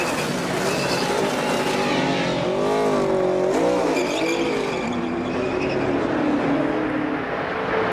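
NASCAR stock car, a Ford-team race car in a 2014 race, pulling away from a pit stop: loud engine roar rising in pitch as it accelerates, with a thick crowd-and-track wash behind it, no talk.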